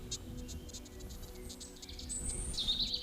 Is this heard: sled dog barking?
no